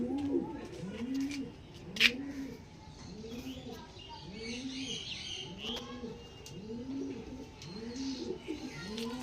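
A pigeon coos in a steady, repeated rhythm, close by, with faint chirps and a soft voice in the background.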